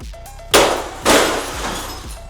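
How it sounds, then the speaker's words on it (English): Glass inside a printer breaks under a sledgehammer in two loud crashing smashes about half a second apart, each followed by a lingering tinkle and clatter of falling shards. "Never realized how much glass is in a printer."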